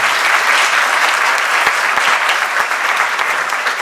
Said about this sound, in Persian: خواهش می‌کنم تشویقش بکنم.